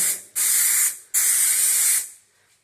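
Two long hissing bursts of 3M super strength aerosol glue sprayed onto cracked drywall paper, close up, separated by a short pause, the second burst longer before fading out.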